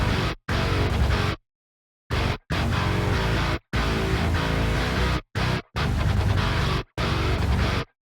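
Dense, heavily distorted band music with guitar blasts out in tight chunks, cut by abrupt silent stops, some long and some brief.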